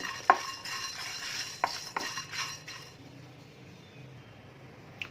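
Spices are stirred while dry roasting in a pan for an egg tomato curry, with a few sharp metallic scrapes and clinks of a spoon against the pan over a soft background hiss, fading toward quiet.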